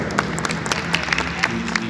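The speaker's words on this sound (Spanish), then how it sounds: "Fuerte el aplauso para" Crowd applause at a community gathering, a short burst of scattered, sharp hand claps from a nearby audience mixed with murmuring voices.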